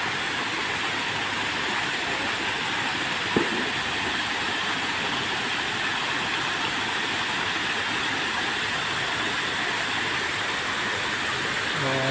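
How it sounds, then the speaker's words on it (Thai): A waterfall in a temple park garden gives off a constant, even rush of falling water, steady and fairly close, with no break across the whole stretch. "อันนี้ที่อยู่ข้างหน้าผมนี่ก็เป็นน้ำตกนะครับผม"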